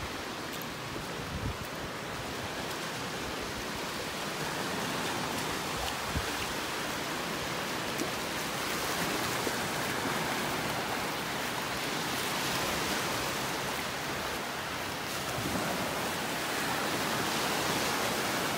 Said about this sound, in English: let you enjoy the sounds of the waves